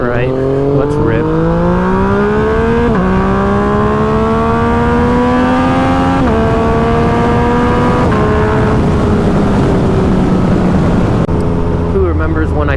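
A stage 3 Kawasaki KLX351 dual sport motorcycle rides hard close up, its engine pitch climbing through several gear shifts with a loud, rising buzz and wind noise.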